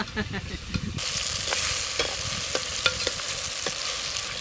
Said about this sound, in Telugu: టమాటాలు వేస్తున్నా, టమాటాలు మంచిగా వేస్తున్నా చూడు